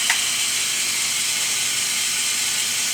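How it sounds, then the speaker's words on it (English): A small electric motor runs steadily on a large Lego Technic crane, giving an even mechanical whir with a faint ratcheting texture, close by and without pauses. "That motor does slow down a bit when you plug the LEDs in."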